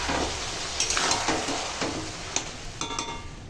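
Cabbage cooked with meat and garam masala is stirred in a sizzling pan, with steady frying hiss beneath occasional scrapes and taps of the spoon, close and fairly loud.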